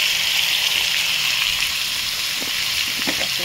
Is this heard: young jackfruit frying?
yes